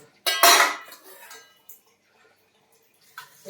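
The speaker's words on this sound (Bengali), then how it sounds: "তারপরে এখানে কড়া চাপিয়ে দিয়েছি" A metal wok is set down on a home stove while making vegetable chowmein, giving a sharp clatter of cookware followed by a few lighter knocks and clinks, close and alone with no talking.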